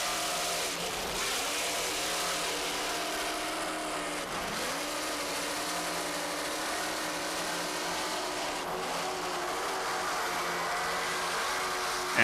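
A 35-foot Jaguar offshore racing powerboat from Team Jaguar at a 1993 offshore challenge race, its twin turbo engines giving a steady, loud, continuous roar with slight shifts in pitch throughout, no talking.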